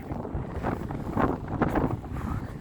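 Wind blowing outdoors near a pond with Canada geese, buffeting a nearby microphone in loud, uneven low rumbling gusts throughout.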